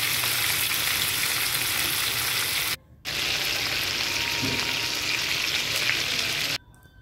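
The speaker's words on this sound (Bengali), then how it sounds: "মাছটা একটা 1 পিঠ ভাজা হয়ে গেছে, অপর পিঠটা আমি একটু ভেজে নেব হালকা করে।" Katla fish frying in oil in a pan, a steady dense hiss of sizzling that drops out briefly twice as the pan is shifted, loud and close with no talking.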